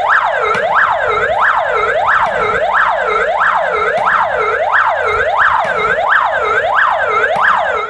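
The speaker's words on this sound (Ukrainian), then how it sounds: "Хвилина мовчання та звук сирен пожежних авто." Fast wailing fire engine sirens cycle rapidly and continuously during a commemorative minute of silence, loud and close, several overlapping, with a low engine rumble beneath.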